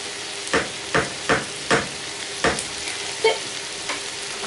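Food frying in a pan for a meal served in a Yorkshire pudding, a low steady sizzle broken by about seven soft scraping stirs at uneven intervals, close and moderate in level.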